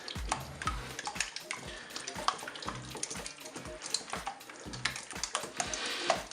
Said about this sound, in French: je vais mélanger à l'aide d'un fouet.